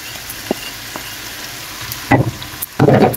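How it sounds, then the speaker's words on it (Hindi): Mutton with black pepper and other spices frying in a pan, with a close sizzle under a few sharp spatula taps and two louder bursts of scraping and stirring near the end. "थोड़ी देर इसे फ्राई करेंगे"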